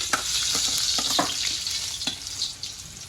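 Meat and onions stirred and frying in a pan over a gas stove, a steady close sizzle with scraping stir strokes throughout, no talk.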